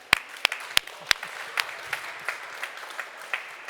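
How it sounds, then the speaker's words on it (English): A small conference audience claps at the end of a talk, a few sharp loud claps up front followed by scattered, thinning applause that fades out. "Round of applause."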